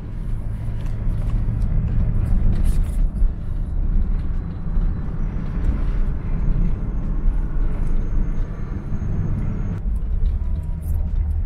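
A Nissan Micra K11 drives along a French country road, its engine and road noise forming a steady, loud interior rumble throughout with no talk.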